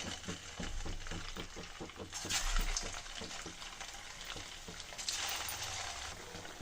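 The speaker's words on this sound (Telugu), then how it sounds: "ఇలా గోల్డెన్ బ్రౌన్ కలర్ వచ్చేలాగా డీప్ ఫ్రై చేసుకోవాలండి" Vadas deep frying in hot oil on a low simmer flame, a steady close sizzle and crackle with periodic stirring clinks, strongest in a few bubbling bursts, under faint background sounds.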